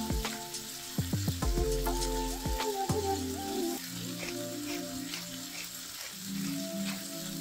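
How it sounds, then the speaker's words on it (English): Beef and white scallion pieces fry in an oiled pan seasoned with Southwest spice, a close, even sizzle and crackle with some tonal clatter early on and no speech. "Add a drizzle more oil and add the beef and the white part of the scallion into the pan."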